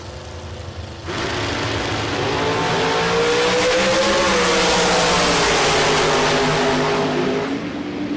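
Drag racing cars at the Texas Motorplex bracket races, a low rumble of idling engines followed by a loud, sustained launch roar that holds for several seconds, then tails off.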